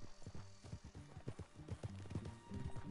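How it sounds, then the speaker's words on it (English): Horse hooves clip-clopping in a video game, a quick, steady rhythm of hollow thuds with faint bridle jingles, fairly quiet and alone. "Oh, she got a really big horse."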